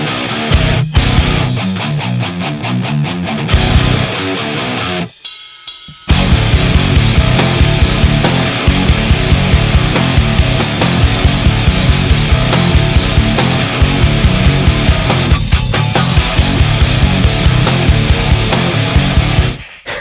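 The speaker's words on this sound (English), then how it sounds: "it sounds like this super tiny, like super high tuned popcorn snare." A tight, very high-tuned popcorn snare drum hitting in a loud, dense rock mix, sharp cracks repeating on a steady beat among full-band instruments, with a brief break before the groove returns.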